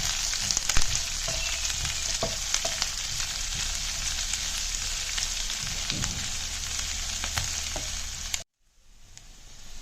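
Onions and green chillies sauté in a pan for a Kerala jackfruit-seed stir-fry, giving a loud, steady sizzle with small stirring crackles that cuts off abruptly near the end, leaving a faint hiss.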